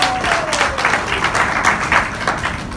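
A seminar audience at a network marketing event in Haridwar claps loudly and steadily, close and continuous, with a brief voice-like tone fading under the applause at the start.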